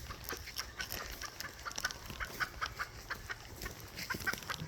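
Wild chicken clucking during a night feeding, a run of short, close, fairly soft clucks in an irregular rhythm with no talking.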